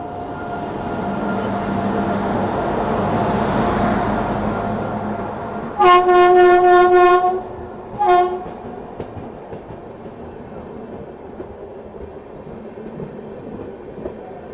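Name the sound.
train departing Howrah railway station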